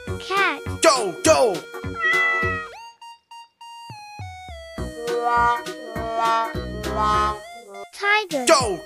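Cartoon cat meowing in a children's animal painting cartoon, mixed among lively kids' voices, chimes and playful music; the meows come in bright, rising calls close up.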